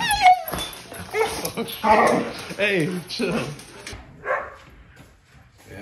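A dog whimpers, yips and gives short barks right up close, broken by excited human voices and calls over the top.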